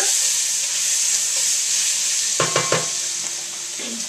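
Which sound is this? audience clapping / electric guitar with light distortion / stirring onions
stirring onions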